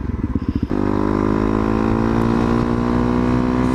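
A Honda CRF250L motorcycle engine sputters briefly, then settles into a loud, steady idle or cruising drone heard up close, with no voices.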